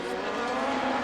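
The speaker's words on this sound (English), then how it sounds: "you can hear those rev limiters cutting in" A Formula 3000 race car's 460-horsepower Zytec V8 sits on the rev limiter, giving a loud, sustained, buzzing engine note with rapid cut-outs.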